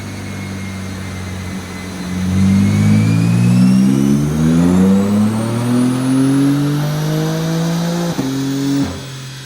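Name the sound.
tuned car engine revving on dyno run with E40 ethanol fuel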